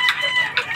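Game fowl chickens cluck and crow in two short calls close by, each burst loud and clear against a quiet background.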